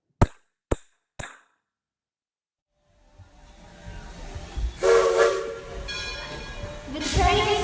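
A train departing as a sound effect: three sharp knocks, a short silence, then rising hiss and a chugging rumble with loud whistle-like blasts near the end.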